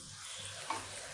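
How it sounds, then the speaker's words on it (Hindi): Onion fries in a pan for vegetable pasta, a soft, steady sizzle at low level with one small clink of a spoon partway through. "मैं डालूंगी प्याज हल्का सा भूनने के लिए।"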